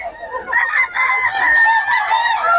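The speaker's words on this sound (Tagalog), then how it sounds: "Manok ni Boss Gaga" A rooster crows once, a long, loud, close cock-a-doodle-doo with a strained, wavering call.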